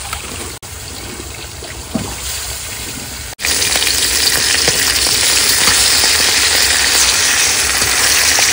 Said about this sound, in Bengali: কড়াইতে তেল দিয়ে দিয়েছি, তেল গরম হয়ে গেছে, মাছটা ভেজে নিচ্ছি